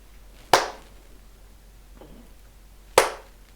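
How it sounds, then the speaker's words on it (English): Two sharp single hand claps, clearly separated by a few seconds of quiet, each a crisp, loud snap with a quick decay and no talking between them. "Did you hear the clap that time?"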